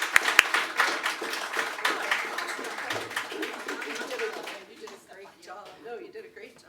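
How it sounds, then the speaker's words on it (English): Audience applause for a speaker at a church talk, a fairly close burst of clapping from a modest crowd that thins out and fades toward the end. "Please give a big round of applause for this amazing speaker today"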